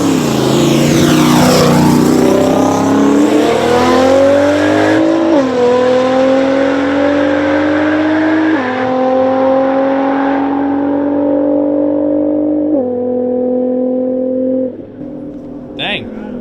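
A Nissan G35 roll racing, its engine loud and close, revving hard through a series of upshifts with rising pitch and a drop at each gear change, all running under speech.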